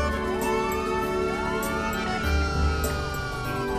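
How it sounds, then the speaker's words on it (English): Police car sirens wail in GTA V, several overlapping rising and falling tones from a line of cop cars, steady and fairly loud over a low rumble. "That is a big line of police cars coming up."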